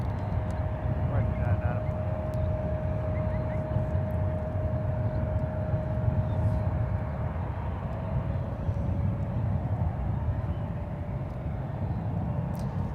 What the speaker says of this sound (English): Gorgeous 777 there.